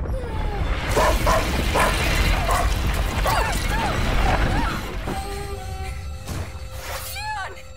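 In the opening scene of the video game A Plague Tale: Innocence, a dog yelps and whimpers among crashes and rustling. Voices speak over it, and thin, high whines carry on near the end.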